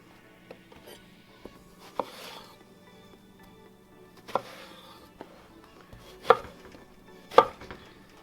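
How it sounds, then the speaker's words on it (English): A knife chops eggplant into sticks on a cutting board while a vegan garlic eggplant dish is prepared. Quiet, irregular sharp chops are spaced a second or so apart, with a few louder strikes near the end. "basically making some eggplant sticks. Cut it again"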